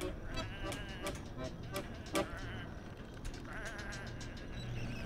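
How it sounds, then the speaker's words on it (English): Sheep bleating in the video game Whateverland, several overlapping bleats from a small flock alongside other game sounds. "Come on, these are just sheep."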